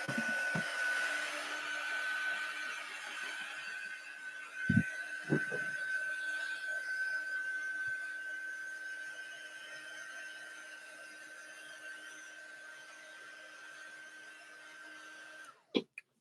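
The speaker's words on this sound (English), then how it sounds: "We're going to have to use this dryer." Hair dryer blowing on acrylic paint, a steady whirring drone that fades gradually in loudness, with a few knocks and handling bumps and a click as it shuts off at the end.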